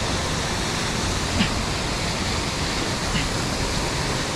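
A river rushes along the Pindari Glacier trek in the Uttarakhand mountains, a dense, steady roar of churning water heard up close that holds evenly without a break.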